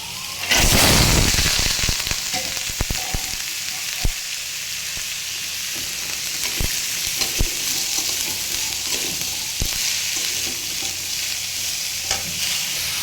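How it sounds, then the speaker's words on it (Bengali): Cut pumpkin tipped into hot oil tempered with cumin seeds bursts into a loud sizzle, which then settles into a steady fry broken by scattered spatula clicks and taps, close up with no talking. "কুমড়োটা ভাজি করার জন্য তেলে জিরে ফোড়ন দিয়ে নিয়েছি। এবারে এই যে কেটে রাখা কুমড়োটা দিয়ে দেবো।"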